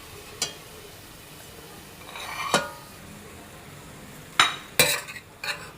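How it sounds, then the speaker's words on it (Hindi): Chicken being sautéed with spices in a pan: a few sharp metal clinks and scrapes of a spoon against the pan, spaced unevenly over a faint low sizzle, close by with no speech. "अब इसको थोड़ा सा मुसलसल भूनेंगे।"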